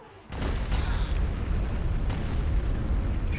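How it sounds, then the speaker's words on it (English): Artillery bombardment in Awakening of the Rebellion, a sudden loud onset into a sustained rumbling barrage of overlapping explosions with sharper bursts within. "Bombardment incoming."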